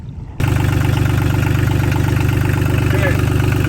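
A Yanmar 3QM30H marine diesel engine on a boat kicks in abruptly and settles into a loud, steady idle with a fast, regular throbbing pulse that holds for the rest of the clip.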